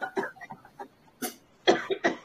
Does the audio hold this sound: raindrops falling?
no